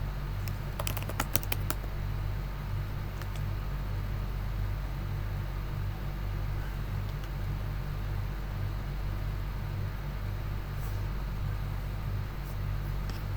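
A short run of quick computer keyboard keystrokes near the start, entering a command in a terminal, then a steady low hum of room noise with no further typing.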